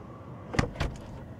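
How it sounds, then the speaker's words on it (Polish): Denza Z9 electric car's doors closing on their own: two short mechanical thumps about a quarter second apart over a quiet background hum, with no talk. "wciskam sobie hamulec i drzwi zamykają się same"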